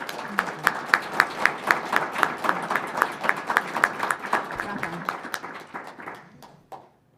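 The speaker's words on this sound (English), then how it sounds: "Can you all help me give our panelists a round of applause?" A conference audience applauds panelists after a clean energy session, with sparse, rhythmic claps rising into a steady round of clapping that thins out and fades to a few last claps before silence.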